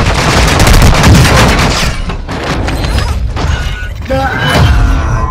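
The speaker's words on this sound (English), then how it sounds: "He's shooting at me." Gunfire in a first-person shooter game, dense rapid bursts with booming impacts and shattering crashes, loud and close, easing slightly midway then picking up again.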